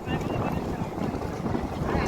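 A small trawler at the Kutubdia-Pekua sea ferry ghat drones with a low, continuous engine rumble under strong wind buffeting the microphone, close and steady.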